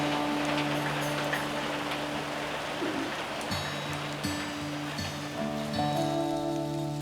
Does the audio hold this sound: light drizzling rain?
yes